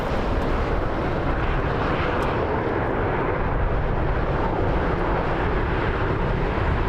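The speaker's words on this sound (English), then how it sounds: "Delta Flight 83 from Charles de Gaulle in Paris." Delta airliner arriving at Las Vegas on a flight from Paris Charles de Gaulle, a steady roaring jet engine rumble heard from a distance, with no one speaking.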